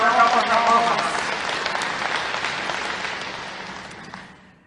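An assembly audience breaks into a burst of clapping, loud at first and then slowly fading out, with some voices mixed into the crowd noise.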